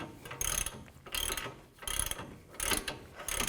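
Ratchet wrench tightening the inner tie rod on a 2006–2018 Toyota RAV4 front suspension, heard as four bursts of rapid clicking separated by short pauses, close and fairly loud with no talking.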